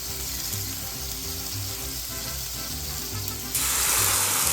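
Cheese taco shells, about four inches across and spread thin, sizzle steadily in a pan, a close, continuous crackling fry that swells louder near the end, with no talking.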